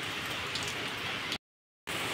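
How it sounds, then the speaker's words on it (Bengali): Rain falls outside in a steady, even hiss of drops on surfaces, briefly cut to silence before resuming. "দেখো বাইরে বৃষ্টি পড়ছে, আর চারিদিকে দেখো পুরো জলে জল হয়ে গেছে।"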